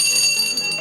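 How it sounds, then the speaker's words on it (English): A small hand bell rung by Lisa in the TV sitcom Saved by the Bell gives one bright, high-pitched ring with a shimmering sustained tone, loud and up close, lasting under a second. "Lisa's bell rings higher"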